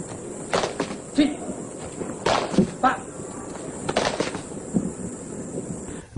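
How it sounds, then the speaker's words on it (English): Palm slapping the sole of the foot during a martial arts kick drill, heard as several sharp, close snapping slaps spaced across a few seconds over a steady background hiss. "Practice hitting the bottom of the foot with the palm of the hand so that it makes a loud snapping sound."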